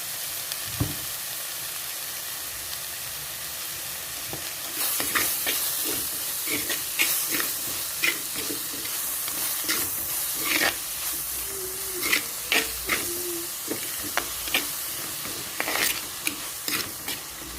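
Sliced onions sauté with salt in a pan for a Kerala fish curry, with a steady sizzle broken by sharp scrapes and clinks from a stirring spoon.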